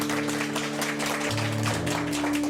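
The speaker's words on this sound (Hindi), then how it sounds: "माविया के नाम पे जरा आप लोग तालियां बजाइएगा" An audience claps together for Mavia on the studio set of a televised Eid morning show, a dense, steady wash of applause running the whole time with faint music tones underneath.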